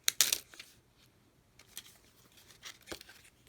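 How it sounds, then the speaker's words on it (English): Perforated vellum sheets tear from a paper pad, a sharp close rip at the start followed by faint rustling and a few soft crinkles and tears. "this pad is, oh, this is also vellum. And they're perforated so I can rip them apart"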